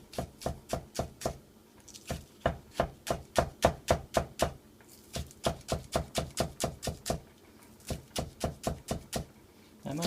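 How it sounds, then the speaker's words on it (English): A knife chops green onion on a board in quick, even runs of crisp thuds, close and fairly quiet, pausing briefly between bursts, with no one talking. "let's chop the green onion and put them inside as well"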